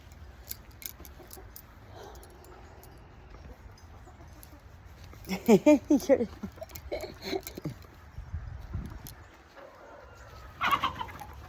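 Chickens cluck and call in a loose burst midway, with a rooster-like cry near the end, over steady outdoor background noise and some speech.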